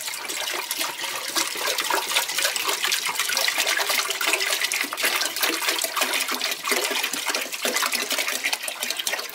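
Leftover water from a gallon jug pours out in a steady, splashing stream for several seconds, close and fairly loud, with no voices.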